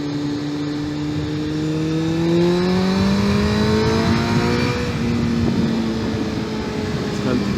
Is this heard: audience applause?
no